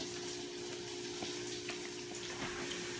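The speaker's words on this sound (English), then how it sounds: "you can just pour the water out into the sink" Water is poured out into a kitchen sink after rinsing freshly churned butter, a continuous splashing gush with a faint steady hum beneath it.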